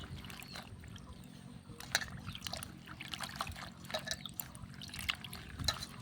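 Silk cotton flowers are washed in a basin of water, giving soft drips, trickles and splashes that come in irregular bursts, close and fairly quiet, with no talk.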